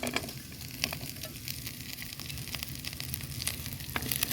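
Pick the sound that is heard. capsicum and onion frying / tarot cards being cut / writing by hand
capsicum and onion frying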